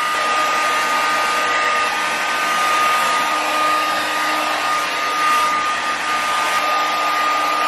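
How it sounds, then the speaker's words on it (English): A hair dryer blows hot air onto the heel of Dr. Martens boots, a steady loud whooshing hum that runs without a break and stays close throughout. "So I'm gonna blow dry my heel area for about 30 seconds, just far away."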